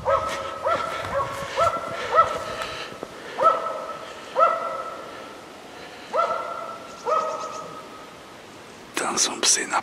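Hunting dogs bay during a deer hunt near reeds and a pond. About a dozen rhythmic barks carry from a moderate distance, with faint whispering nearby and a louder rustling burst at the end.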